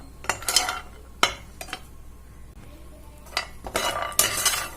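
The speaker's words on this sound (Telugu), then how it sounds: "బాగా బాదం వేసుకుని టూ మినిట్స్ బాగా వేయించుకోవాలి" Almonds dry-roasting in a pan for dry fruit laddu, with clattering spatula strokes and metallic scrapes against the pan in irregular bursts, close up and fairly loud over a quiet background.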